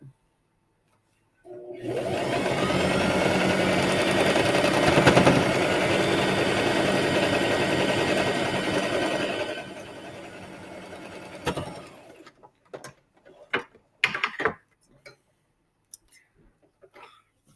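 A sewing machine stitches quilt triangles together, running in one continuous loud, steady whir for about eight seconds, then stopping, followed by a few scattered handling clicks and rustles.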